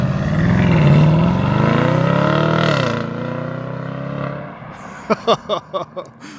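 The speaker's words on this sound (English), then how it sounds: "It seems like our exhaust systems from BMW just keep getting better and better and better." A BMW M850i exhaust droning with a smooth engine tone that rises and falls, then a quick series of sharp throttle blips near the end, close and loud.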